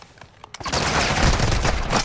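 Video game gunfire erupts after a few scattered shots, turning into a loud, dense, continuous volley that lasts to the end, with no speech.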